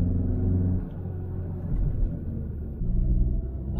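A Hyundai i30 N Performance on a short test drive, its engine giving a close, deep rumble that dips and swells as the car accelerates and shifts, steady and loud inside the cabin.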